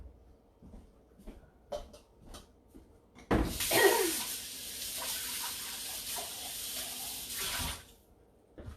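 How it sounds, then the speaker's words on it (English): A blender container rinsed under a kitchen tap: a few soft clicks and knocks, then a strong rush of running water for several seconds that stops, followed by faint handling noises. "I'm going to rinse this real quick"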